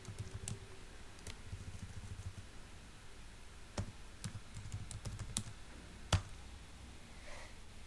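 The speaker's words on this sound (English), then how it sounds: "In run I can run cmd, and now type Python" Typing on a computer keyboard during a Windows command prompt session, with quiet scattered key clicks and a few sharper taps, irregular rhythm, close and faint, no voice.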